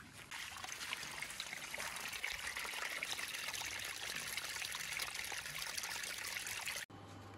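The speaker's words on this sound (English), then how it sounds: "So we're pumping the water out." Water pumped out of a flooded area pours and trickles steadily in a continuous, fairly close wash of flowing liquid that stops abruptly near the end.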